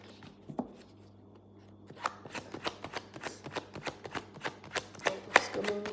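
Tarot cards are shuffled by hand in quick, crisp riffles and slaps, a steady run of close, distinct card sounds after a quiet start.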